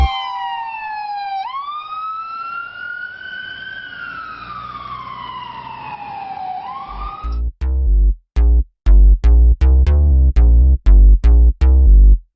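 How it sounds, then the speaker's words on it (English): An ambulance siren wails loudly and nearby with a long rising and falling tone, then switches to a sharp, rapid series of short blasts at a safety fair and EMS anniversary event. "watch out, an ambulance is coming."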